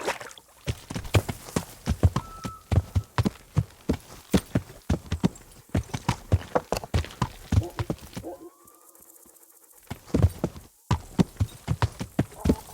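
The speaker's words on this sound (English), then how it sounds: "Ride a horse" Horse hooves clip-clopping at a steady walking rhythm in the video game Kingdom Come: Deliverance, each step clear and close, pausing briefly before resuming.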